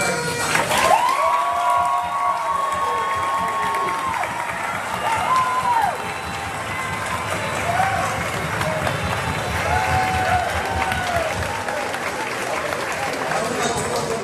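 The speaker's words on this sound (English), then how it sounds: "Please give a round of applause for all of our graduates." Applause, cheers and whoops rise from a crowd at a 12th grade graduation ceremony for the class of 2025, a broad, steady roar of clapping with excited shouts and voices mixed in.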